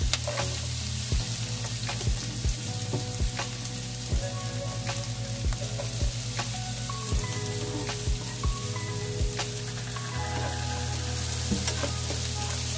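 Garlic fries in a pan with a steady, close crackling sizzle and scattered pops and taps. A low constant hum runs underneath, and nobody speaks.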